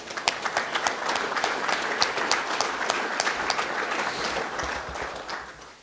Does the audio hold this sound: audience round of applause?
yes